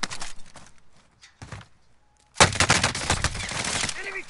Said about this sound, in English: Enemy guns!